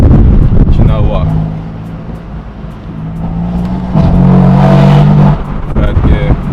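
BMW M4 fitted with a straight pipe exhaust pulling hard in second gear, a loud close engine note rising in pitch with gear-change dips, heard from inside the car with wind noise and no speech over it.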